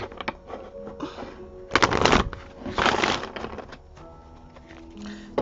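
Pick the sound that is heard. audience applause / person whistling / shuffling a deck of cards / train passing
shuffling a deck of cards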